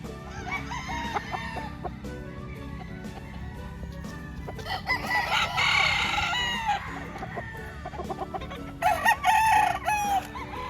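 Gamefowl roosters of sweater, white kelso and gray lines crowing repeatedly at a farm in Lipa, Batangas, with overlapping calls from several birds against a steady background hum.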